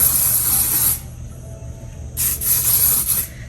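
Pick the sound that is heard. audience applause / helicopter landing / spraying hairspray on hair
spraying hairspray on hair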